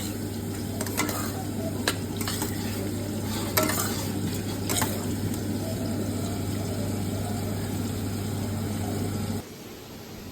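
Whole garlic cloves frying in hot oil in a pan with tomatoes while cooking chicken curry, a steady close sizzle with occasional stirring scrapes, then fading lower near the end.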